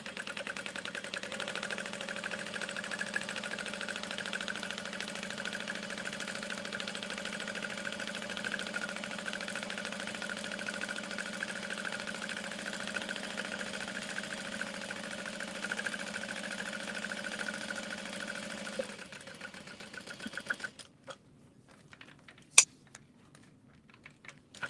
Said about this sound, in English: now I'm going to top stitch around all 4 sides.